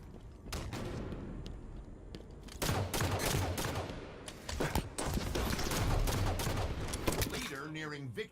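Rapid pistol gunfire in a Halo one-on-one match, with sharp shots cracking in quick bursts over constant game noise and short pauses between volleys.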